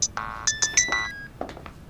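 A mobile phone ringtone plays a short melodic sequence of bright electronic tones in a quiet room, clear and close, fading out after a few notes.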